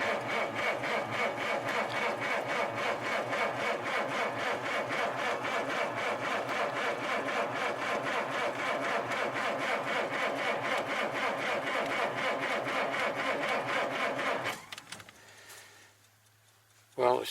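An old Citroen with a low battery, cranking in the cold, turns over in a steady rhythmic churn that runs loud and continuous for about fourteen seconds, then cuts out abruptly, leaving a low hum and a brief knock at the end.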